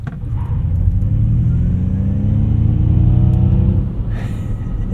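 A 2024 Ford Mach-E Rally electric car accelerates up a highway entrance ramp in light misty rain, giving a steady, loud rumbling road and motor drone with rising tonal whine for most of the stretch, easing near the end.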